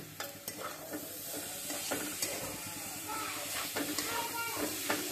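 Garlic and green chillies frying in soybean oil while a spatula stirs and scrapes the pan, making a steady close sizzle broken by clicking scrapes.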